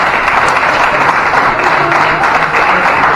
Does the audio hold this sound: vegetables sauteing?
no